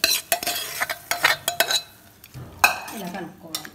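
Fried tempering is stirred into bottle gourd pieces and yogurt chutney with the stove off. A spoon clinks and scrapes against the bowl in quick bursts, followed by softer wet mixing and a few more taps.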